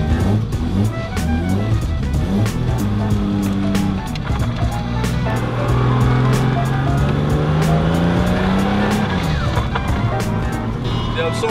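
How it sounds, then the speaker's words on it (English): Drift cars on the Brands Hatch circuit, engines roaring loud and continuous with rising and falling revs, tire squeal and skidding close by throughout. "I'm off to BRANDSHATCH today to do a bit of drifting."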